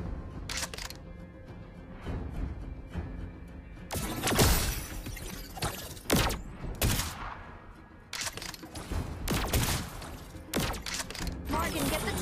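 Beatrix's sniper rifle in Mobile Legends fires a series of loud, sharp cracks, some single and some in quick pairs. Mechanical clicks and game effects fill the gaps between shots.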